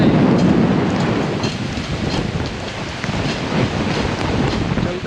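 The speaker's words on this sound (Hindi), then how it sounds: "बारिश शुरू हो गई है।" Heavy rain and gusting wind at Patong beach in Phuket, Thailand, a dense, steady roar of downpour with low rumbling buffets that holds loud and close for the whole stretch, with no voices.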